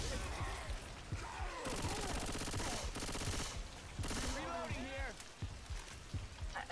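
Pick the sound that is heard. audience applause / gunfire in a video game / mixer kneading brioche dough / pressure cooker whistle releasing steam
gunfire in a video game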